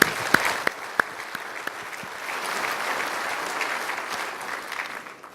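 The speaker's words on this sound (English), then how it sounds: "let's give a round of applause for all the event organizers that made this happen" Audience applause at a beef association convention general session in Tampa, starting with a few sharp individual claps then swelling into steady, dense clapping from a large crowd that fades at the end.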